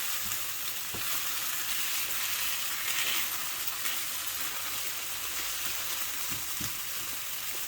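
Canned chicken patties, broken up like home fries, sizzle steadily in a pan, a constant bright frying crackle with a few faint scrapes and no talking.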